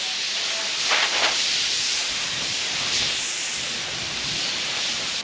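A spray gun sprays primer onto a car body panel on an old Holden Commodore, a steady close hiss with brief louder pulses early on, running continuously without speech.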